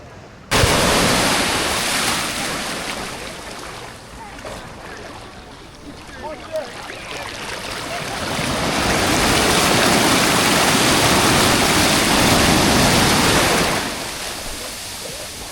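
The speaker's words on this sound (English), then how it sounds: "So this is Pigeon Beach." Waves at Pigeon Beach, Antigua: loud, close surf washing in and out in long swells, with a roaring rush that builds and fades over the stretch, no voices heard.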